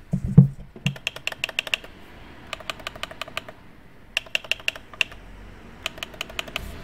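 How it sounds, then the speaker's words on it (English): Sharp plastic clicks from the left and right touchpad buttons of an MSI GL65 laptop come in quick bursts of several presses with short pauses between, close and crisp. "to give you an idea of the left and right click"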